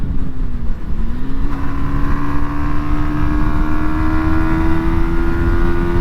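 A Yamaha 125 motorcycle, MT125 or R125 of 2023, rides along a fast forest track, its engine loud and close with a steady droning note that rises in pitch as it pulls and accelerates, wind buffeting underneath.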